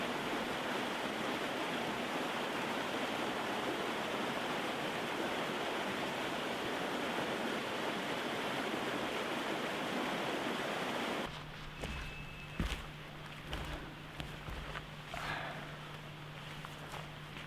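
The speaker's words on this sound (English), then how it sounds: "I've set up camp next to a little stream over here" A small mountain stream flowing beside a campsite on Mt. Rainier, a steady close rushing of water for most of the stretch before it drops away abruptly, leaving quieter ambience with faint scattered knocks and a thin hum.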